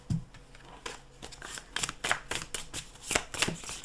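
Crisp riffling and flicking of paper tarot cards being shuffled, several quick bursts close by with no talking.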